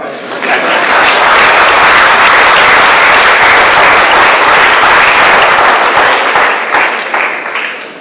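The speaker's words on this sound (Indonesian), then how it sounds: "Kurang tepuk, seolah-olah tak sokong Tok Pak." Audience applause at a halal industry initiative announcement fills the whole stretch, loud and sustained clapping from a large crowd that swells quickly and tapers slightly at the end.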